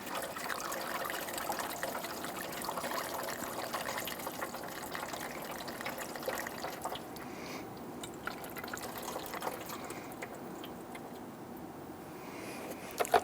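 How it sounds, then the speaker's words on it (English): Coolant trickles and pours into the coolant reservoir of a Jeep Grand Cherokee, a quiet, steady liquid dribble close by that fades softer in the latter half, with no talking. "use the appropriate coolant to fill it up to the full mark here"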